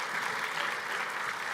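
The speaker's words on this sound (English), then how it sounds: "Let's give Ellie a warm round of applause." An audience at a scientific society's award ceremony gives a short burst of steady, moderately loud applause for an award winner, a continuous even patter of many hands.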